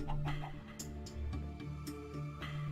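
Short clucking calls from a Minecraft chicken over a busy backdrop of steady tones and clicks, with some sounds rising and falling.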